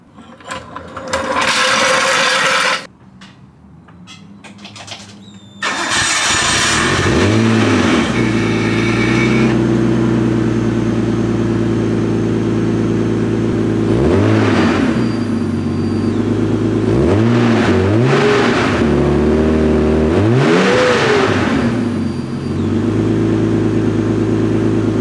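A Nissan Skyline R32 GTS-T with a new ISR exhaust starts with a short burst, then settles into a loud, close idle punctuated by several sharp revs that climb and fall back.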